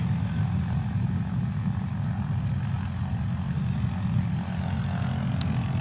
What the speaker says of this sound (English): You can hear Jeff Pohl's Hartzell propeller just spinning around